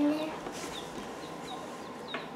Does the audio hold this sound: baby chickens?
yes